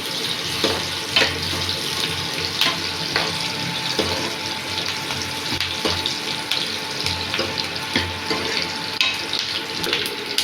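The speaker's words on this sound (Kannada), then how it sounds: "ಕೆಂಪಗಾಗೋವರೆಗೂ ಫ್ರೈ ಮಾಡ್ಕೋಬೇಕು." Curry ingredients frying in a pan make a steady, close hiss and sizzle with small crackles and no pauses.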